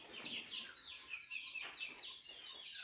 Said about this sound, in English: I'll start here by feeding these birds.